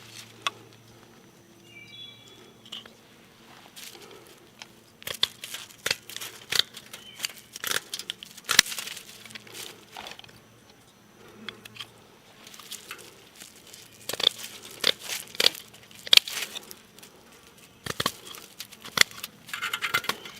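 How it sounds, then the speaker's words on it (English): Metal snips cut through a thin metal stove grate, sharp scattered snaps and clinks arriving in irregular clusters against a quiet room with faint background hum. "I'm going to be able to use those creases to use my snips to trim off a great big plus sign."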